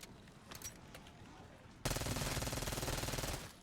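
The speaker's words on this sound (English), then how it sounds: "Is this an SMG?" Sustained automatic fire from an SMG in a video game, a dense rapid burst of shots running steadily for well over a second after a stretch of quieter game sounds.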